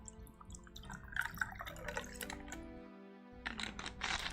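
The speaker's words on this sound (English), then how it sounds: "Top this with soda water." Soda water poured over a spritz cocktail in a glass, with light clicks, drips and liquid trickling, building to a bright fizzing rush near the end; close and fairly quiet.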